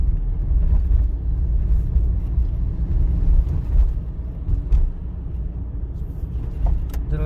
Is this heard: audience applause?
no